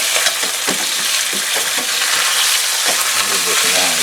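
Pork chops sear in hot olive oil in a pan with a loud, continuous sizzle. Sharp crackles and pops run through it, along with occasional scraping as the meat is moved around.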